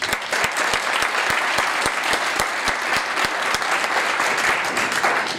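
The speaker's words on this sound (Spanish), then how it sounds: "un aplauso para todos por esta iniciativa" Sustained audience applause at a talk on work, resilience and communication, dense steady clapping from a crowd filling the whole stretch without pause.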